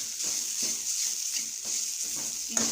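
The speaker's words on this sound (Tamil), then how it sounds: "இதை நல்லா கொஞ்சம் கிண்டி விட்டுக்கோங்க" Rasam ingredients being stirred in a pan over low heat, giving a steady soft sizzle with a few light scraping strokes of the spoon, close and alone.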